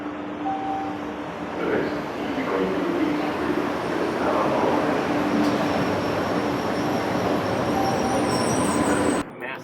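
A Boston Red Line subway train rumbles along with a steady, loud roar throughout the ride. Faint voices may sit beneath the noise.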